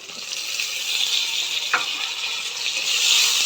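Garlic and slit green chillies fry in a hot pan with a steady, close sizzle and crackle, plus a brief stir noise midway. No voices.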